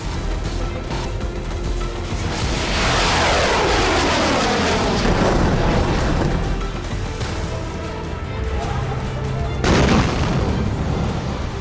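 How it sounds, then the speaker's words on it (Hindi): Heavy, continuous booming explosions from serial rocket blasts around the Gaza Strip roll together into a loud, sustained rumble, with a sharp fresh blast near the end. "सीरियल ब्लास्ट हो रहे हैं।"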